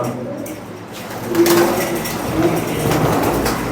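Pigeons at a Punjabi pigeon fancier's loft, a paired female among them, cooing softly at moderate distance amid rustling and a busy background, with brief tonal calls near the middle.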